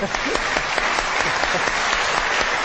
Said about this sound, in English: go on, give a round of applause